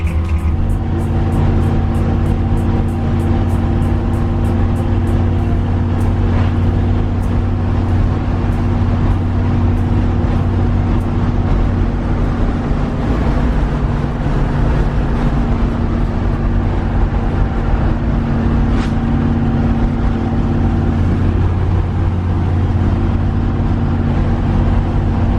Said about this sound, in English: I want to drive my truck, so I'm taking it an hour out to where the chassis is